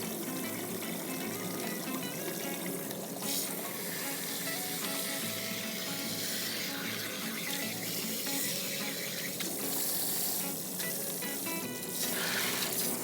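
Running water rinses color out of a blonde weave, a steady close rush like a tap flowing over hair, continuous and fairly loud with no talking.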